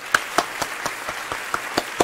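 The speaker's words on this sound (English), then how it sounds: "Give these guys another round of applause." A handful of separate claps ring out at an even, unhurried pace, sparse and fairly close, more like a few people than a full crowd.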